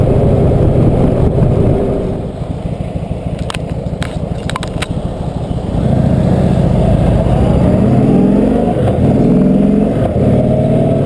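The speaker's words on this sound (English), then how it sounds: "There's very little mechanical noise from the engine, particularly from the rider's perch. Mostly what you get is the exhaust noise" An Indian Chieftain motorcycle heard from the rider's seat while riding, with a steady low exhaust drone that eases off and then swells again as the engine pulls, and little mechanical noise over the continuous rumble.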